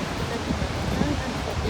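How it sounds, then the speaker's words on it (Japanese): The waterfall at Harajiri Falls in Oita, Japan rushes with a steady, dense roar of falling water, heard continuously at moderate loudness. "なんかの滝。"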